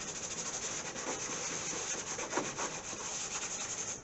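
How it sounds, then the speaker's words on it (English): Steady back-and-forth scuffing of a plastic car wing part with 80 grit sandpaper during a repair, close and continuous rasping with no talk. "Take our 80 grit sandpaper."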